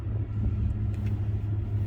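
A 2007–2013 GM Sierra truck engine in sport mode gives a steady low rumble with a slight rise in revs, fairly close and continuous, no talking.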